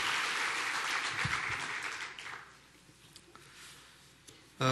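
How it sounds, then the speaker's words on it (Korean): A church congregation applauds a departing family during a worship service, clapping audible for about two seconds and then thinning into scattered faint claps and quiet room noise. "우리가 평안히 잘 가시도록 박수로 격려드리겠습니다"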